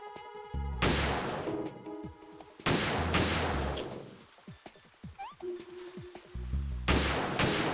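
Repeated bursts of gunfire in the Metal Gear Solid 2 video game, sniper support shots mixed with fusillades and echoing cracks, loud and close, alongside smaller game clinks and effects, with no talking.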